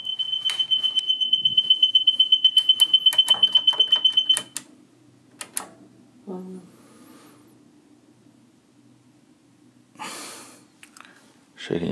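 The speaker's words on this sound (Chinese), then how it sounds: "谁给你设了个闹铃啊？" An alarm clock goes off at six in the morning in Pyongyang, giving about four seconds of rapid, even electronic beeps up close before it cuts off. Soft breathing, rustling and handling noises follow.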